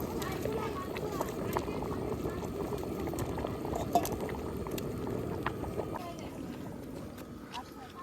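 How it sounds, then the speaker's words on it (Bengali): Meat curry with potatoes bubbles in a pot cooked outdoors in a forest, a steady, low, close boil with a few soft clinks, fading slightly toward the end. "মাংস ফুটতে শুরু করেছে"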